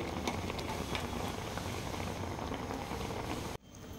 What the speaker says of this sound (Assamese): চেনিৰ পানীত জলফাইখিনি সিজি আছে